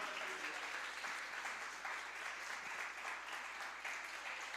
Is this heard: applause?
yes